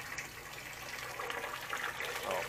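Spring water gushes steadily from a pipe buried in the ground beside a rice field in Victoria, Oriental Mindoro, a continuous close rushing flow without pause.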